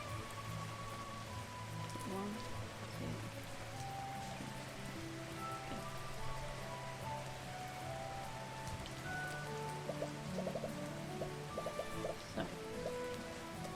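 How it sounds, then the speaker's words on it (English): Steady rain patters on surfaces in the farming video game Kitaria Fables, a constant hiss alongside soft game music tones and chimes, while a person speaks briefly over it. "Oh, it's raining!"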